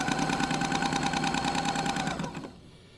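A Kenmore machine runs with a noise from a misaligned wheel riding off-centre, giving a steady, close mechanical whir with fast rhythmic ticking before it winds down and stops near the end.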